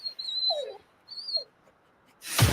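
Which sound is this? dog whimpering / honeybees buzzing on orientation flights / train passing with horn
dog whimpering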